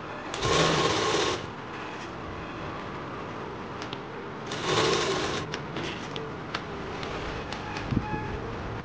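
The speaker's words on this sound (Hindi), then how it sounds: "हमें सिलाई लगाते जाना है" A sewing machine stitches a circle blouse, also called a poncho, in two short whirring bursts, each about a second long, separated by quiet gaps with small handling clicks and taps.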